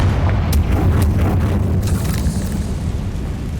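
Fiery blast from the Confringo spell in Hogwarts Legacy, a loud rumbling explosion with a few sharp bursts crackling over a sustained low roar.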